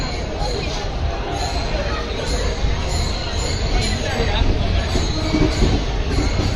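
Meenakshi Express diesel train at Madurai station, a steady broadband rumble of rolling stock with faint wheel and rail noise running continuously beneath a busy crowd, voices talking throughout.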